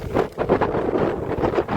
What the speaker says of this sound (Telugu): సెంటర్ అసలు గాలి అయితే చాలా చాలా బాగా వస్తుందండి